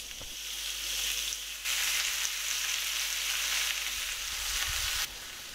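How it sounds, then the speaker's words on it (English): Yakitori chicken skewers fry in rice oil in a frypan over medium heat, giving a steady close sizzle that swells louder partway through and then eases, with no talking. "Okay, let's cook in yakitori with fry pan."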